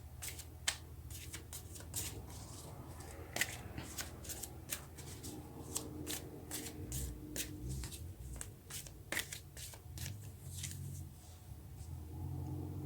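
Tarot cards being shuffled and drawn produce quiet, close riffling and sharp flicks and snaps in an irregular rhythm over a low background rumble.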